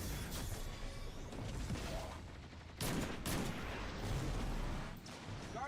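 Gunfire in Destiny 2, rapid volleys of shots and booming impacts over a constant battle din, with a heavy burst around the middle and more shots following.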